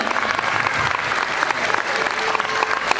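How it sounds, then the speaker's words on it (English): Steady audience clapping at a children's school class presentation, a dense, continuous patter of many hands filling the room for a few seconds without a break. "Clapping."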